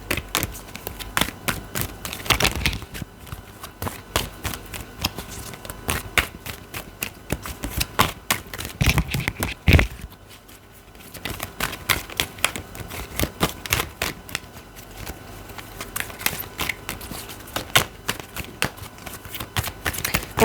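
Tarot cards are shuffled by hand close up, a steady run of crisp riffling and flicking card sounds that goes on at length with only brief pauses and no talk.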